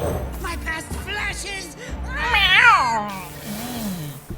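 A cat meows several times, drawn-out and whiny with one loud rising caterwaul in the middle, as a cat unit is played in the card game Legends of Runeterra, heard up close over a soft game background.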